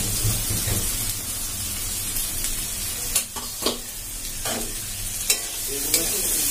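Onion and tomato fry in a pan for chicken keema ghugni, with a steady sizzle and a few clinks and scrapes of stirring, no voices.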